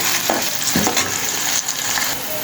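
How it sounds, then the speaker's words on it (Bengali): Chopped onions fry in hot oil in a pot, giving a steady close sizzle broken by a few scraping stirs, with no talk. "এখন আমি পেঁয়াজ কুচিগুলো দিয়ে দিচ্ছি"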